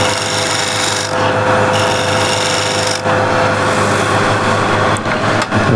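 A bowl of walnut and ash is shear scraped on a lathe, producing a loud, continuous rasping scrape of tool on spinning wood with brief dips and breaks, no one talking.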